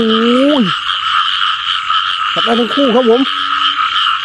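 Close, loud croaks from mating frogs ring out over constant heavy rain in a rural Thai village. Someone speaks briefly between the calls.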